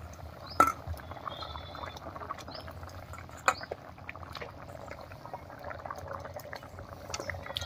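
Cauliflower curry broth at a rolling boil in a pot, a soft continuous bubbling with a couple of sharper pops and clinks, heard close and fairly quiet with no voices.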